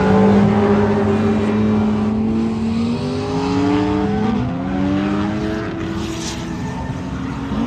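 Cars drifting at a Midwest car festival, loud engines revving and sliding with rising and falling pitch sweeps, several vehicles overlapping continuously at close-to-mid distance.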